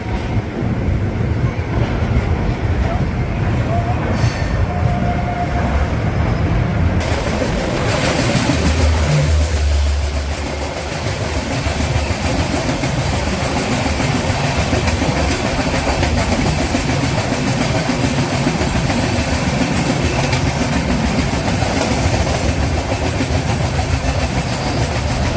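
Passenger train running on tracks across Uttar Pradesh, heard from inside as a continuous loud rumble of wheels and carriages with a faint clickety-clack and a short dip in noise partway through.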